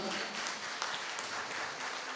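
A congregation at St. Michael's church in Sulanagar, Khammam, claps to welcome priests during the 28th anniversary celebration, a faint, steady patter of applause heard from a distance.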